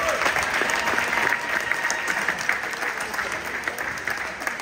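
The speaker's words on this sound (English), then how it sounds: "Ladies and gentlemen, please give a round of applause." A Senior Night audience delivers a steady round of applause, a continuous, moderately loud wash of many hands clapping throughout.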